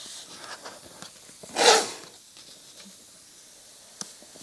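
An airbrush sprays paint in one short, bright hiss of about a quarter second, close and clear against a quiet background, with faint small clicks before and after.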